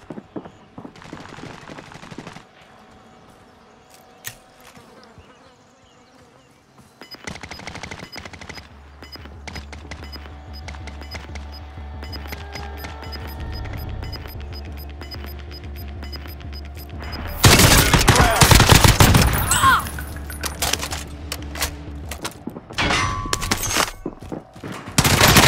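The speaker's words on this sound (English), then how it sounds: "Taking fire over here" Sustained gunfire while taking fire in a shooter game: quiet stretches give way to rising ambient rumble, then heavy, dense bursts of automatic fire and explosions dominate the final third, loud and close.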